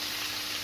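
Bacon cheeseburgers frying in a pan, a continuous dense sizzle heard close and steady on its own for a brief moment.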